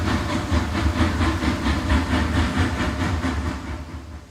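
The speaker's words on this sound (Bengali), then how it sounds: "ট্রেন এসে দাঁড়ালো।" A train pulls into a station with a rhythmic, repeating clatter of wheels over rail joints and a hissing, steamy rumble, loud and close, gradually slowing and easing off toward the end.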